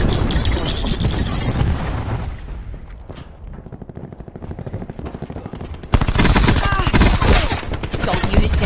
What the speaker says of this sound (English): Cluster grenade going out.